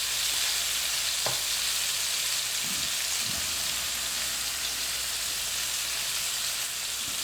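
Pork chops fry in a pan with a steady, dense sizzle that holds evenly throughout, broken only by a couple of faint knocks, with no talking.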